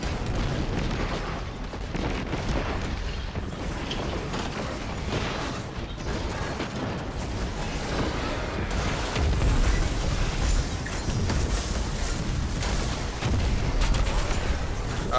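Bomb blasts in the Destiny 2 Forsaken Blind Well Tier 3 activity merge into a continuous loud roar of booms and bursts, with dense mechanical combat noise throughout and no clear voices.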